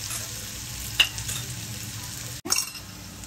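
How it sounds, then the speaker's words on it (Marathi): Finely chopped onion frying and sizzling in a pan for a jackfruit kofta curry, a steady close hiss with a couple of brief stirring clinks and a short break. "कांदा आपल्याला भाजायला 2-3 मिनिटं लागते."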